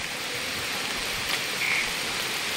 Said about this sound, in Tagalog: Sobrang lakas ng ulan, di kami makakilos ng ayos.